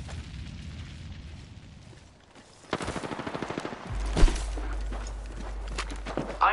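Video game gunfire in an online match against enemies: a quiet stretch, then a rapid rattling burst of automatic shots, followed by heavier continuous firing and booming impacts that stay loud to the end.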